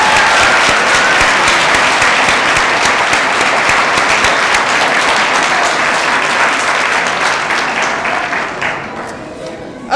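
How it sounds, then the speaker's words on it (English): Loud, sustained applause fills a commencement ceremony hall as a large crowd claps steadily for graduates, dense and even throughout before easing slightly at the end. "All right, let's give them a round of applause,"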